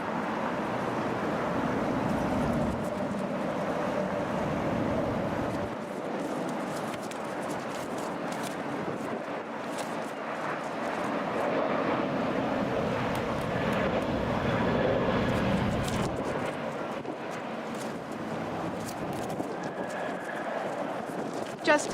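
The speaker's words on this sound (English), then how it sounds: "Just touching down, that's Delta Airlines Flight 371 coming in from Las Vegas on an Airbus 321." A Delta Airbus A321 airliner touches down, its broad engine roar rising and lingering over the runway at a busy airport, heard from a distance with people talking nearby.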